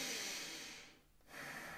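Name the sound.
long heavy breath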